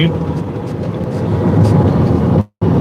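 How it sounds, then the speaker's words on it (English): An airplane passes overhead as a loud, steady broadband roar that holds for nearly three seconds, then cuts off abruptly near the end. "that's the airplane."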